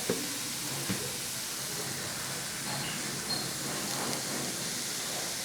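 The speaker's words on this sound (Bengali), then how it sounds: "এবার ভালো করে কষিয়ে নেব।" A spiced homemade burger mixture sautés in a pan, giving a steady broadband sizzling hiss with a few faint stirring knocks, moderately loud and without speech.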